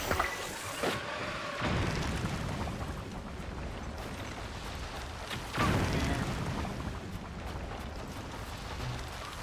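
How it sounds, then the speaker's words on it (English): Bombs explode against towers in The Legend of Zelda: Tears of the Kingdom, giving two separate low booming blasts a few seconds apart over a quiet game background, with no voices. "Let's hit it with a bomb"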